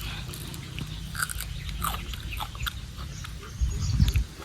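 A person bites and chews a raw, unwashed, unboiled plant fed to pigs at midday, giving soft crunching and wet chewing sounds in irregular bites over a low background rumble, with a louder crunch near the end.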